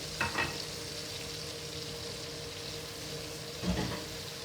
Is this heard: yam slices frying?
yes